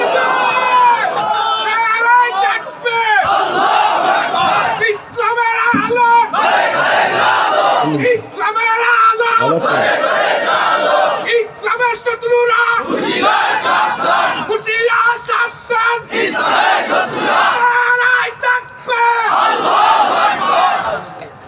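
A large crowd roars takbir chants in unison with raised hands, wave after wave of loud massed shouting that swells, pauses briefly and rises again in a steady rhythm.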